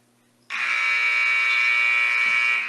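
A loud, steady electronic scoreboard buzzer sounds at the end of the second period of a wrestling match, starting abruptly and holding for about two seconds before easing off.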